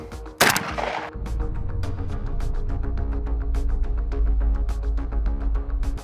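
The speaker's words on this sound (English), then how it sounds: "since it's the control, let's shoot it with the AK" AK rifle fired at a ceramic body armor plate: one sharp loud shot, followed by a steady rhythmic ticking and a low hum.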